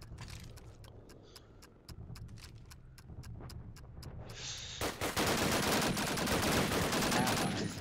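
Rapid gunfire from the Call of Duty: United Offensive video game during a competitive cup match: a steady series of sharp shots, then a dense, loud burst of continuous fire and clatter near the end, with no talk.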